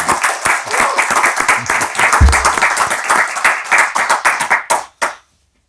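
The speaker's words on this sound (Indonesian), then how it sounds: "Tepuk tangan buat" Studio audience applauding a guest, a politician, on an Indonesian talk show: dense rhythmic clapping that stays loud and steady for about five seconds, then cuts off sharply.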